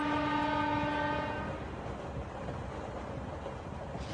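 Cartoon-style train sound effect from a Hindi-dubbed Doraemon episode: a loud sustained horn-like tone for about a second and a half, fading into a steady rumbling rattle of a train travelling along the rails.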